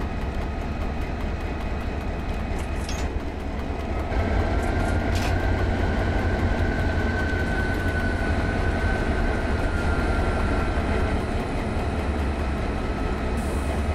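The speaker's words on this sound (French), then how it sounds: "Et nous allons maintenant procéder à l'attelage." A CC 72000 locomotive in Train Simulator 2018 rumbles steadily during coupling, with a low idling engine drone, a brief clunk near the middle and a faint whining tone, no voices.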